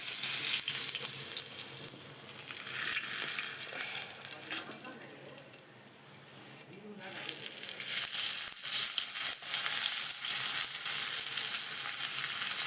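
Coconut pieces fry in a pan with a loud, continuous sizzle and hiss, dipping briefly in the middle before returning strongly, with faint scraping as they are pressed down.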